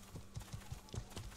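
Horse hooves clip-clop in the medieval video game Life Is Feudal, a quick steady rhythm of soft thuds at a moderate distance, with no talk.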